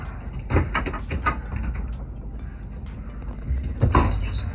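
A bathroom pocket door in a 2016 Tiffin Allegro Open Road 32SA motorhome slides along its track with a low rumble and a few soft knocks, mid-distance, with no talking.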